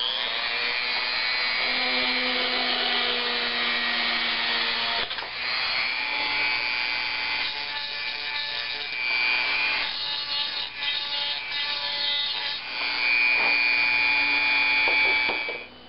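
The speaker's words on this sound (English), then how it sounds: "let's get out our handy Dremel tool and cut some holes" A Dremel rotary tool cuts holes in a plastic case, a loud, close, high-pitched whine that grinds steadily with brief dips and changes in pitch as the bit bites and is repositioned.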